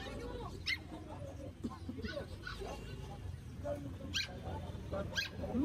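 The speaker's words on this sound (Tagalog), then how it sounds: "Ito Pomeranian." A Pomeranian puppy whimpers and gives small yips in high, thin whines scattered through a steady background of people talking nearby.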